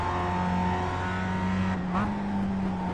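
A Mazda MX-5 engine in iRacing at Okayama Short, droning steadily under gentle throttle, with a brief shift-like dip near the two-second mark, loud and close with no talk.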